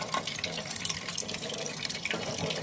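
Tap water runs steadily as cut hilsa fish pieces are lightly rinsed, a continuous close splashing gush with no speech.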